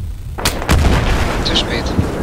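Tank fire and explosions in the video game Battlefield 3 come through as two sharp, loud booms in quick succession followed by a rumbling tail and scattered debris sounds, with a brief voice chirp.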